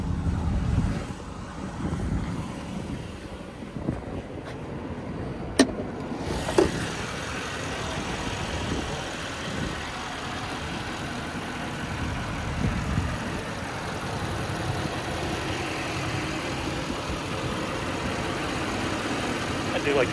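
A GTS car's engine idles with the hood open, a steady low hum heard close up with some wind buffeting on the microphone and a few brief knocks.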